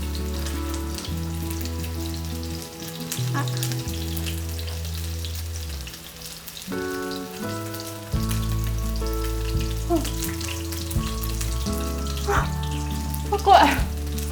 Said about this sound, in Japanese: ちょっと粉を落としながらね、揚げ焼きしていきます。